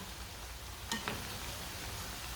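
Chicken pakoras frying in a pan in a little oil, a steady soft sizzle with a couple of brief scraping clicks of a spoon turning them.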